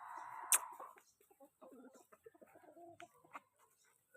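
Rhode Island Red and Brahma chickens at a chicken coop, with one sharp, loud squawk near the start, then scattered soft clucks and low murmurs in a quiet yard.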